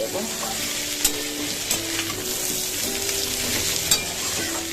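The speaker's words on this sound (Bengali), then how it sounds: "আলুর সাথে পেঁয়াজ আর মুসুরির ডাল দিয়ে দিলাম তো এইগুলো আবার ভাজা করবার" Potatoes, onions and red lentils sizzle steadily in a hot pan, with occasional scraping stirs and small clicks of a utensil, no voices.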